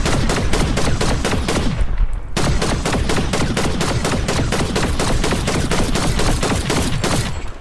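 Rapid, loud, continuous automatic gunfire rattles in Fortnite as a player is shot at, with sharp shots in quick rhythm and one short pause partway through.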